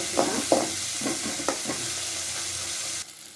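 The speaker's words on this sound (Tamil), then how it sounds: "ஒரு கைப்பிடி தேங்காய் நம்ம இதையும் சேர்த்து நல்லா வதக்கிக்கலாம்." A handful of coconut sautéed in a pan while making pirandai thuvayal, a steady close sizzle with several scraping stir strokes early on, the stirring easing off before the sound drops away near the end.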